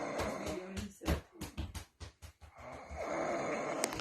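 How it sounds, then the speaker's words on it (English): A man's loud snoring, jokingly dubbed a snoring boar, comes in uneven rasping snorts and rattling breaths, close to the microphone and alone, with a longer drawn-out inhale toward the end. "here is the North American snoring boar."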